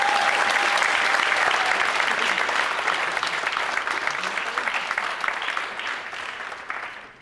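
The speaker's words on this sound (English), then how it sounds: "let's give another big round of applause for Sonata Music School" Sustained applause from a concert audience at a cultural music event, loud and dense at first, then gradually thinning and fading over about seven seconds, with no talk over it.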